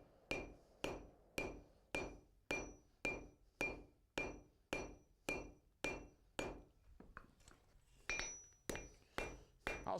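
A blacksmith strikes iron with a hammer while forming a horse's head, sharp ringing blows falling in a steady, even rhythm of about one and a half per second, with a brief uneven stretch near the end.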